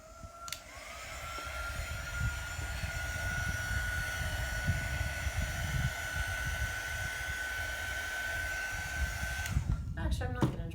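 A hair dryer blows steadily on an autumn leaves painting, a loud continuous whooshing hum with a steady whine, switched on at the start and off near the end, followed by a few handling clatters.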